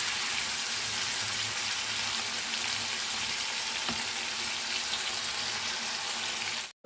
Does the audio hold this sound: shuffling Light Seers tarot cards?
no